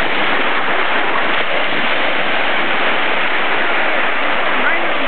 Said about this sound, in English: As the water begins to roll and surf over my feet, it's quite beautiful